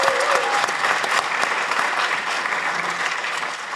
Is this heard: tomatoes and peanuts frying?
no